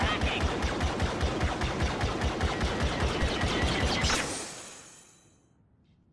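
The default blaster in Star Wars Battlefront fires in a rapid, steady automatic stream of close, loud shots for about four seconds, then stops, and the sound fades into a short tail.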